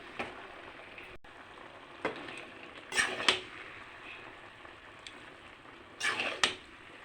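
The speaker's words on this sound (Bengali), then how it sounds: "তা আমিও চিনি দিয়ে দেবো সবগুলি একসাথে মিশিয়ে নেবো" Panchan, a mixed vegetable dish for Chaitra Sankranti, is stirred in a pan after sugar goes in, with a soft steady sizzle broken by a few scraping strokes near the middle and end.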